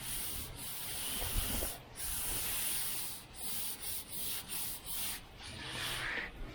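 A body panel on a 1978 Chevy Nova is ground down with loud, steady abrasive rasping, broken by several short pauses and a quick run of repeated strokes near the end.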